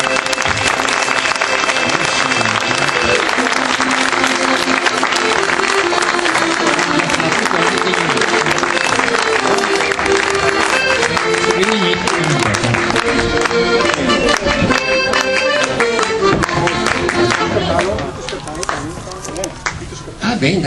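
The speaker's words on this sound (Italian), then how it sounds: "Un applauso." Audience applause fills a school year-end celebration with a folk group, dense and steady clapping mixed with crowd noise and voices before thinning out near the end.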